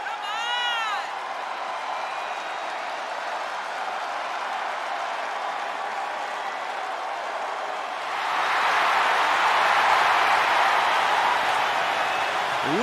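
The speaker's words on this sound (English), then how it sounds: "Listen to this ovation. The WWE Universe loves cheering on the EST." A virtual arena crowd in the WWE 2K23 wrestling game roars and applauds for Bianca Belair in a steady wash of cheering. It swells noticeably louder toward the end, with a commentator briefly talking at the start.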